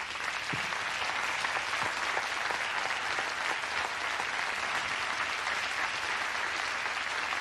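A studio audience at a 1994 television show applauds steadily, a dense even wash of clapping that carries on unbroken at moderate loudness with no voices over it.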